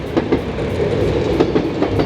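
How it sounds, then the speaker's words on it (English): A train passes close by, its wheels clattering over rail joints in a steady, loud clickety-clack rhythm with a constant rumble underneath, and no voices. "Oh, train."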